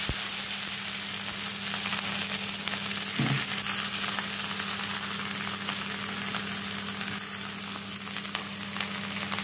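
Mashed potato frying in hot oil in a pan on a gas stove, a loud continuous close sizzle with one brief knock near the start, no voices.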